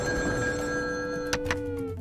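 A telephone bell rings in a short burst of bright, repeated metallic trills, clear and close, alone without any speech.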